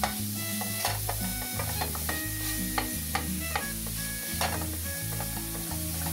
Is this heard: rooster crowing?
no